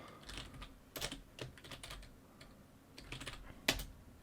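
Quiet, irregular clicks of fingers typing on a computer keyboard, short bursts of keystrokes separated by brief pauses, close by with no talking.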